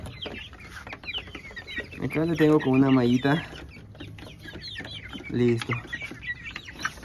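Hens and chicks squawk and cluck as they are caught by hand with a small net, with louder outbursts mid-way and again near the end, mixed with a person talking.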